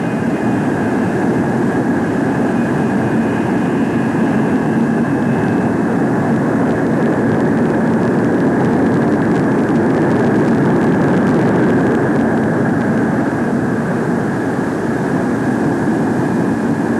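Convair F-102 jet aircraft on approach and landing: a loud, steady, broadband roar with a sustained whine holding constant across the whole stretch, with no voices.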